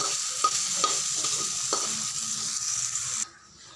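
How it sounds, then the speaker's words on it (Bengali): Neem leaves frying in a wok with a little oil and salt: a steady close sizzle runs under scraping stir strokes of a spatula, with a few sharper knocks, then the sound cuts to near quiet at the end. "এই কড়াইতেই আমি এখন নিম পাতাগুলোকেও ভেজে নিব"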